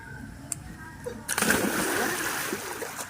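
A boy doing a back dive into water, with a sudden close splash followed by sloshing and spray that fades, as voices chatter in the background.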